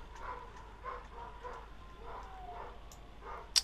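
Dogs barking outside a shut window, muffled and fairly distant, in a series of short repeated barks spread across the stretch with a sharper, closer sound near the end.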